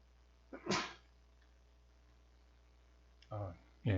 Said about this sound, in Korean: 강의 중에 재채기가 나왔네요.